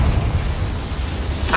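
A Confringo fire spell blasts in Hogwarts Legacy, a low rumbling roar that ends in a sharp, bright burst right at the finish.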